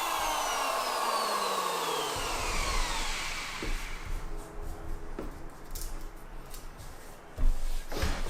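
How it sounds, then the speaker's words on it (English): A power planer runs along a hardwood timber post for outdoor steps, a steady loud whining roar that shifts in pitch as the blade bites and slows, with a few knocks near the end. "the plane squares them off"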